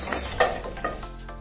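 Sliced onions fry in oil in a pan as part of making tindora (ivy gourd) chutney, a steady sizzle with a few stirring scrapes, close and moderately loud, no voices.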